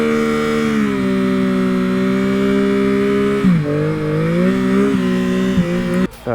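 A 2021 Yamaha MT-09 on Pirelli tires does a burnout, its engine held at a loud steady high rev, then dipping and climbing again before cutting off abruptly.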